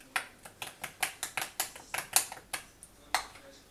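A utensil stirs food in a bowl at home, a quick series of about twenty clinks and scrapes in a steady rhythm, close and fairly faint, with no talk.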